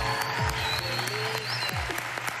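Steady applause from a talent show audience, a dense wash of clapping that holds evenly throughout with a few sharper claps standing out.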